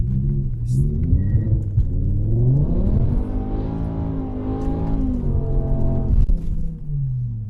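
A naturally aspirated V10 in a BMW M6 revs hard, its tone climbing and falling through several loud, sweeping pulls heard close up.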